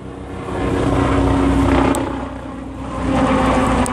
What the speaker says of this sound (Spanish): helicóptero Bell 407. Míralo, míralo, a la ambulancia aérea,